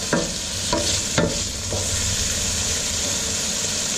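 Shallots browning in a pan for pasta carbonara, a steady loud sizzle with a few sharp scraping stirs near the start, close and continuous without talk.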